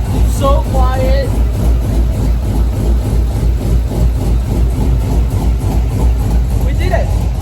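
A swapped engine in a Corvette idles in a low, steady rumble with an even pulse and stays close and loud throughout, while a brief chirp of talk is heard near the start and again near the end.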